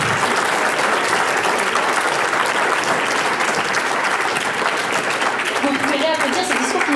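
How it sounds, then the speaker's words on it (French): Audience at a stage speech event applauding loudly and continuously, dense rapid clapping from a sizeable crowd close by, with a few voices and cheers rising near the end. "applaudir ce discours médiocre"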